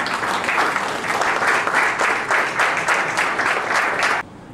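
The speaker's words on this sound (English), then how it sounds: "Viral Bhai and his team therefore deserves not only clap," A crowd applauds in a standing ovation, a dense, steady wash of many hands clapping for about four seconds before stopping abruptly.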